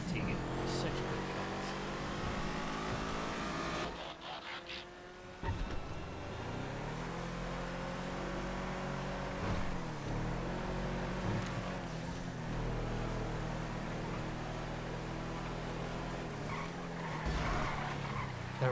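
Stinger GT cars racing in FiveM on GTA V, with engines droning and shifting pitch as they accelerate, occasional tire squeal, and a steady close engine tone under intermittent talking.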